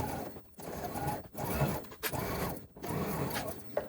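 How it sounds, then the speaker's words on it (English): A sewing machine back-stitching along the bottom seam of a crossbody bag, running in short mechanical bursts of rapid stitching separated by brief pauses, close and fairly quiet. "Back stitching, sewing along that bottom seam."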